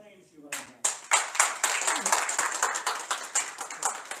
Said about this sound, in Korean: 자, 그럼 우리 장미정 교수님을 큰 박수로 환영해 주시기 바랍니다.